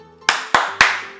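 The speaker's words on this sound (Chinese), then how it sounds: "拍手三次。" Three sharp hand claps are spaced evenly about a quarter second apart, each ringing briefly in a room, to set off a toy robot pet. They are loud and close, with no voices.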